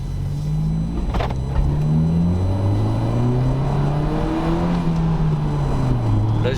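A BMW 114i M Sport hatchback with a Stage 1 tune to 220 hp drives along, its engine and exhaust rising and falling in pitch through revs and gear changes, close and steady throughout.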